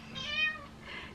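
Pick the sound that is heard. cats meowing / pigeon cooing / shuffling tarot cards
cats meowing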